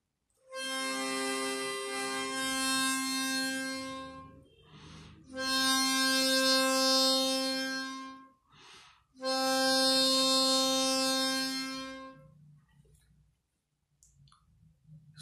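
A chromatic harmonica is played in octave style, with two octave notes sounding together. Three long sustained blown phrases are separated by short breaths and pauses, clear and close.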